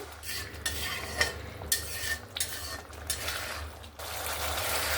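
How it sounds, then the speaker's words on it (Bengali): A thick spice paste sizzles in a pan as a spoon scrapes and stirs in irregular strokes, then the frying hiss swells. "আরও 2-3 মিনিটের মতো মশলাটাকে কষিয়ে নেব"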